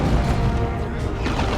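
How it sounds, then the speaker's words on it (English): Heavy booming impacts from a plasma cannon in a Warhammer 40,000: Dawn of War II 3v3 battle, a dense, loud rumble of explosions and gunfire running throughout under a voice. "they're taking direct hits from the plasma cannon"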